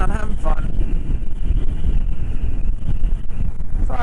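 Heavy wind roar buffets the microphone as a motorcycle cruises down a long straight road, steady and loud throughout, with the engine's low rumble buried under the rush of air and a voice faintly at the edges.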